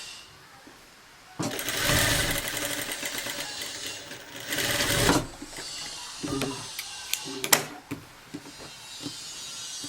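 A sewing machine stitches a blouse in two long, loud bursts of whirring, then a few short stitching runs and clicks follow at a lower level.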